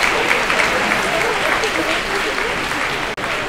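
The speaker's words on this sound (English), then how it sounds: "Give him a round of applause." Audience applause at a student pre-assessment concert, sustained full clapping from a room of listeners that holds steady, then briefly dips near the end before carrying on.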